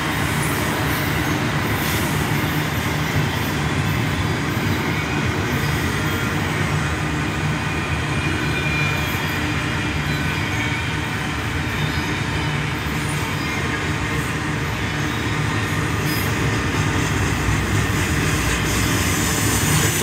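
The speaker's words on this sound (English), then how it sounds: "That's one engine, that's a nice long train for it." A westbound CSX freight train pulled by a single engine rolls past in McKeesport, a steady, loud, continuous rumble and rattle of a long string of cars that never lets up, with no talking over it.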